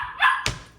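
A puppy named Piper barks once sharply, followed by a second brief yip, close by in a home kitchen with no talking over it.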